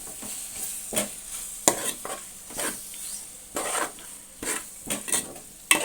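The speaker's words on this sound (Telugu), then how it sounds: "ఇప్పుడు ఒకసారి బాగా కలుపుకోవాలి" Chicken curry with ginger garlic paste and mango is stirred in a sizzling pan, with a series of distinct, rhythmic scraping strokes of the spoon against the pot over a quiet hiss.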